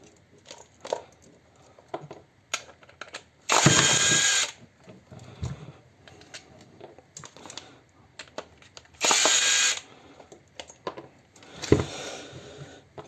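A cordless driver whirs in three short bursts while screws come out of the gearbox on a DEVETECH CHS-12 cordless chainsaw, with small clicks and handling noises of parts and tools between the runs, up close.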